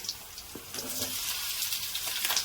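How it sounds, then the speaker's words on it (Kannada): Tempering spices hit hot oil in a pan for village-style avarekalu sambar. The result is a loud, close sizzle that swells after a brief clink and then hisses steadily, with no talking over it. "ಇದರಲ್ಲೇ ಒಗ್ಗರಣೆ ಹಾಕ್ತೀನಿ"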